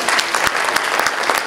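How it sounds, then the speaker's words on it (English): An audience at a magic and mentalism show bursts into brief, close applause, dense clapping filling the short moment. "A little nice applause for Bill."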